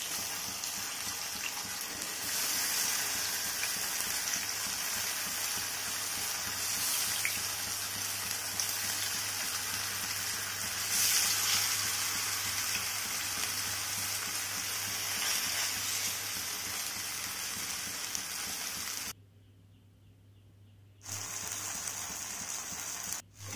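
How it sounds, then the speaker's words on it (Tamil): Masala-coated plantain slices fry in hot oil in a pan, giving a steady, dense sizzle that runs on without a break, briefly dropping away near the end before resuming. "ஆயில் சூடானதுமே நம்ம வந்து ஏற்கனவே வந்து தடவி வச்சுருக்கோம் இல்லையா மசாலாவில், வழக்க அதை போட்டு பொரிச்சு எடுத்துக்க வேண்டியது"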